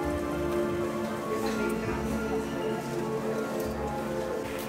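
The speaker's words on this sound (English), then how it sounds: "It's raining now and very drizzly." Light drizzling rain outside the Warner Bros Studio Tour, The Making of Harry Potter, pattering steadily on surfaces as a continuous close wash of droplets. Faint background murmur sits underneath.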